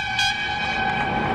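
A train in the Channel Tunnel sounds its horn in a loud, steady multi-tone blast that holds for about a second and a half over the rumble of the wagons.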